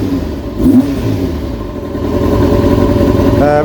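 A Kawasaki Ninja motorcycle engine, freshly rebuilt, runs close by with a steady mid-pitched drone, then swells in a rising rev toward the end; no talking.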